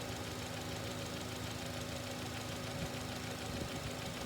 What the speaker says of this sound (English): Oh, engine's running rough